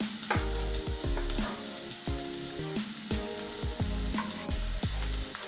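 Chopped medium-sized onion frying in hot oil for egg fried rice, a steady hiss and sizzle running throughout, partly masked by loud music with a strong bass line.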